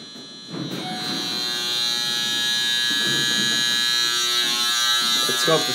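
A Schindler MT hydraulic elevator motor starts with a thump and then drones steadily, a loud sustained buzzing hum heard from inside the car, with brief talk underneath.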